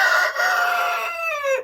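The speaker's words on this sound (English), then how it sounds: "this is the first time all the chickens and roosters have been in this coop together." Chickens and roosters crowding together in a coop, with one close, loud rooster crow stretching out over nearly two seconds and a brief break early on.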